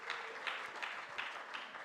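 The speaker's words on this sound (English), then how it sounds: "so we can give them also a round of applause" Audience applause at a memorial lecture, a soft, distant patter of clapping from a crowd welcoming guests, steady and fairly quiet throughout.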